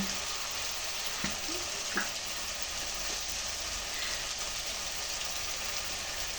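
Turmeric powder tipped into a hot frying pan with cumin powder, giving a steady, even hiss of sizzling oil with a few faint clinks, continuous and close.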